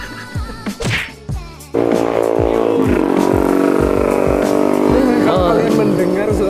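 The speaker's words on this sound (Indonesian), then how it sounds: "motor yang sangat berisik." A loud motorbike on a roadside, beside a busy main road, roars past close by. Its steady engine drone holds for several seconds after a burst of passing traffic, with people talking over it.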